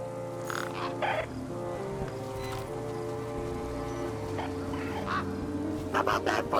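A bird chirps in the point-and-click adventure game Beyond a Steel Sky. Several short squawking calls come in scattered bursts over a sustained musical background.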